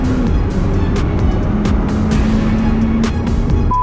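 A Corvette ZR1 race car laps Virginia International Raceway, its engine a loud, steady roar with a sustained droning tone heard from close by, continuous for the whole stretch without a break.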